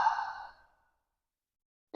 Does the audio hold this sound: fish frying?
no